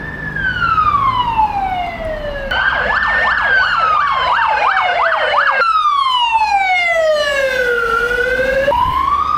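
A loud, close ambulance siren alternates between a slow rising-falling wail and a rapid yelp, sweeping continuously over a low traffic rumble.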